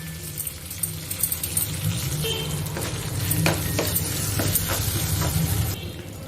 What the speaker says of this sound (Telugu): సో అందుకని నేను ఇక్కడ లైట్గా పోపు దినుసులు వేస్తున్నాను. అలాగే కొద్దిగా కరివేపాకు, 1/2 టీ స్పూన్ పసుపు పొడి, అలాగే కొద్దిగా ఇంగువ,